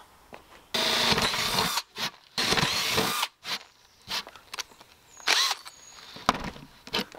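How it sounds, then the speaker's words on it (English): A power drill bores holes through a protest shield in a series of short, loud whirring bursts broken by pauses, close by with no talking. "So the next one we're gonna do is 3/8 inch for the arm straps."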